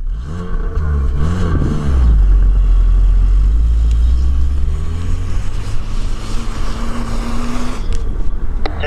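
A Lada Niva 4x4 engine pulls away in snow in first high gear, revving loudly up close and then settling into a heavy, strained drone as the car moves off, with clattering along the way.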